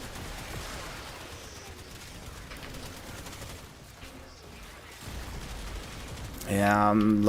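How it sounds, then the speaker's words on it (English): Rapid video-game gunfire aimed at the player, dense bursts of shots running continuously under game music and effects, swelling louder near the end. "Can this thing stop shooting me?"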